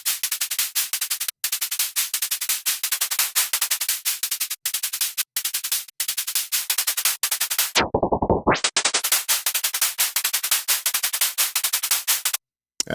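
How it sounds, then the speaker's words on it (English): White noise used as a sound effect in music production hisses loud and steady, chopped by brief gaps and a short filtered dip near the end. "I'll just go with the white noise for now."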